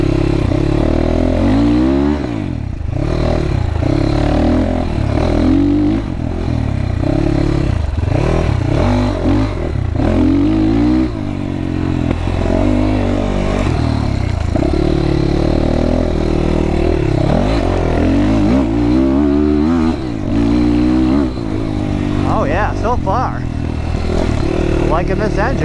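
A GPX FSE300R motorcycle engine drones and revs while being ridden, rising and falling in pitch with loud wind noise throughout, and a rider talks over it at times.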